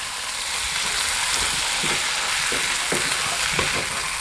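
Pork curry with coriander powder and garam masala is stirred in a hot pan: a close, steady sizzle broken by a rhythmic series of spoon scrapes and knocks roughly every half second, with no talk.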